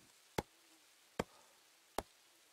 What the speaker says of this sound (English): I'm gonna chop down that stump.